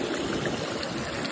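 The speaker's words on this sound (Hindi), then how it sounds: "खतरनाक से एकदम पानी में निकलते हुए" Steady broadband rush of flowing river water in a mountain valley, as someone wades across, continuous and close throughout with no speech.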